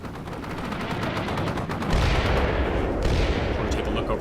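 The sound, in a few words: enemy artillery and gunfire in video game Combat Mission Shock Force 2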